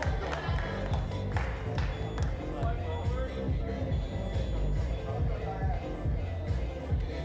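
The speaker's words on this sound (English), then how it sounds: "give a big round of applause for Kera from Denmark, everybody" A crowd at an outdoor street workout championship claps and cheers for a women's strength and endurance competitor, a busy wash of applause and chatter under a loud announcer's voice.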